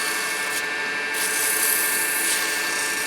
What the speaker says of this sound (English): A little bit of sanding there again.